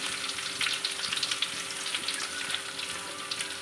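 Garlic and urad dal frying in a pan for a ridge gourd stir-fry, a bright continuous hiss of hot oil with crackling spatter, close and steady, no voices.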